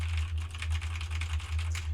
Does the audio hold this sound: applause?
no